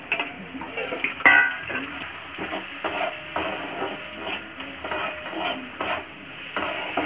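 Ginger, garlic and green chili stirred in a frying pan, with repeated scraping and clinking of a spatula against the metal and a faint sizzle underneath, steady and close.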